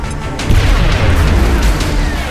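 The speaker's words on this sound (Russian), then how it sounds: "Давай гранату. Бросаем гранату!" Grenade blast in the XCOM tactical game: a deep, loud boom bursts in around the half-second mark and rumbles on with crackling debris, no talking over it.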